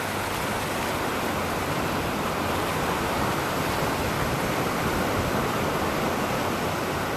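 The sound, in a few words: sea waves on shore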